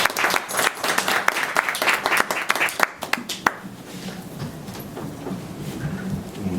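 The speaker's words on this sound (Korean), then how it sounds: "박수 부탁드립니다" A crowd at a hanok traditional music concert applauds with sharp, close hand claps for about three seconds, then the clapping thins and fades into a quiet murmur of the room.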